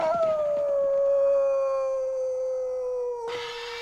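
A dog howls in one long, drawn-out, wavering note on a comedy album, loud and close. The howl falls gradually in pitch, then ends abruptly, cut off by another sound.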